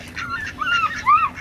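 A few nasal quacks and honks from ducks, rising and falling in pitch, fairly close with no other sounds around them.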